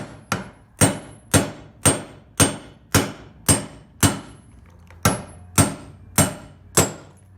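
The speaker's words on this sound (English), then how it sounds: "using a socket that's small enough, I can just whack that out from the inside" Steady hammer blows drive a wheel bearing out of a Porsche 981 hub through a socket, about a dozen sharp metallic strikes at a regular pace with one short pause, close and loud with no talking.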